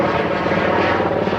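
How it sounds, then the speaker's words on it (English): A medevac helicopter passes overhead in Philadelphia, a loud steady rotor and engine drone filling the whole moment. "It's a medevac."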